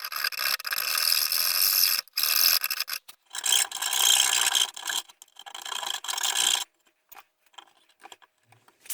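A file rasps back and forth, widening a hole for a USB connector in a handmade puzzle music box. Close, scratchy strokes come in uneven runs with brief gaps, then taper into a few light scrapes.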